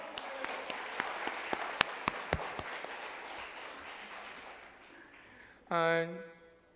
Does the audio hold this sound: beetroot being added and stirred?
no